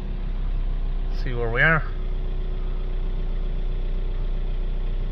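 A Ford Transit Connect 1.5 diesel engine idles steadily with a constant low rumble while its blocked particulate filter is being cleaned, and a brief spoken phrase cuts in partway through.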